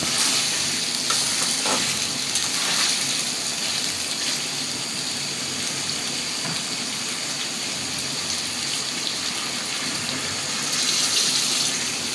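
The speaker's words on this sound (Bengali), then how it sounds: "মাংস আমার সিদ্ধ হয়ে গেছে এখন আমি পানি দিয়ে দেবো" Water added to a pan of boiled beef in a Bengali beef curry, giving a steady broadband hiss and sizzle with a rushing, pouring wash that swells near the start and end, close and continuous, no talking.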